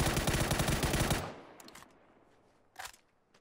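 Loud, rapid automatic gunfire rattles continuously in the PUBG battle royale video game, then breaks off into a few scattered distant shots and one brief burst.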